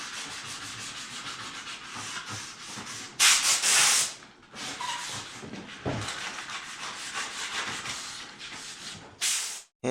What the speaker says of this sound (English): hand sanding those grooves and profiles and all that.